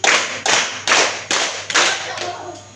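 Group hand clapping at a junior high school, about six loud claps in a steady pattern that slows slightly, each burst sharp and ringing briefly, with no talking.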